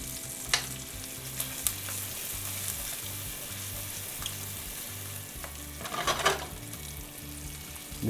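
Chicken pieces fry in olive oil in a pan, giving a steady, close sizzle throughout, with a brief louder crackle and stir near the end and no talking.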